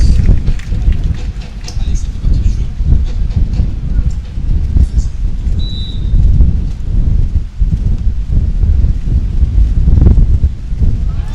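Strong wind roars and buffets steadily outdoors during a footvolley match, a loud, continuous rushing noise with faint voices underneath.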